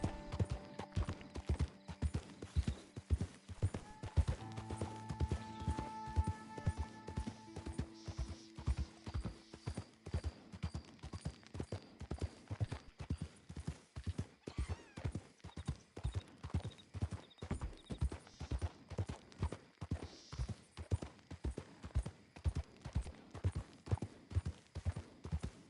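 Horse hooves clip-clop in a steady, even rhythm as a rider travels on horseback in Red Dead Redemption 2, with soft game music underneath and no voices.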